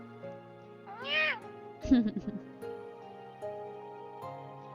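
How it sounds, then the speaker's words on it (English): A kitten in a video game gives a rising, high-pitched meow followed by a shorter chirping mew, close and clear over a soft background tone, with speech nearby. "A kitten suddenly jumped onto Zayne's shoulder"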